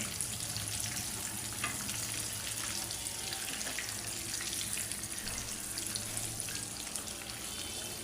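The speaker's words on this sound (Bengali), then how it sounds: "এই পাশ ভালো করে ভাজা হলে আমি পরের পাশ উঠাই দিব" Chicken pieces frying in hot oil give a steady, dense sizzle and crackle that fills the whole stretch evenly, close and moderately loud, with no talking over it.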